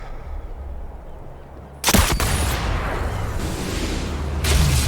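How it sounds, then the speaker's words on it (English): Video game cannon fire in Sniper Elite VR: a sudden heavy boom around two seconds in, followed by a rumbling roar and another blast near the end, loud and close rather than distant. "You see those cannons in the distance? You can use their noise in your advantage."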